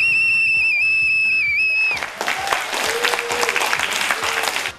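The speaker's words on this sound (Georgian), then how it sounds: "სასტვენი, დახმარება რო ვითხოვოთ" A whistle from an emergency flood-preparedness kit, used to call for help, blows a long steady shrill tone for about two seconds, loud and close, then gives way to a burst of applause on a TV show set.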